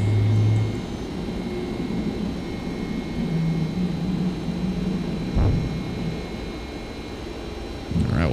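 Steady jet engine roar inside a simulated Boeing 767 climbing after takeoff in X-Plane 11, a constant hum with a few brief clunks and no talk.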